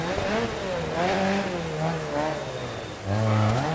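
A Ford Sierra Cosworth rally car in the DiRT Rally video game, on the Oberstein stage in Germany, revs hard and close, its engine note rising and falling through shifts, then dropping low and surging again near the end, with no voices.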